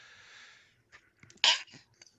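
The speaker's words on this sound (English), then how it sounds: "I gotta sneeze." A single loud, close sneeze from a man on a live show, bursting out sharply after a few soft breaths and quiet sounds, then trailing off into brief rustles.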